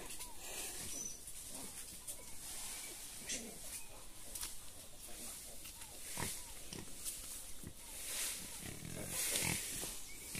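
Piglets in a backyard pen, a mixed litter of young pigs, grunting and squealing in a busy, continuous jumble at close range, with broadband rustling and bursts throughout and no talk.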